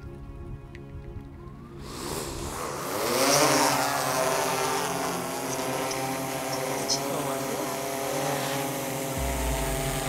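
A DJI Matrice M210 drone spins up and lifts off outdoors, its rotors rising into a steady droning whine that holds at moderate loudness, with brief voices nearby.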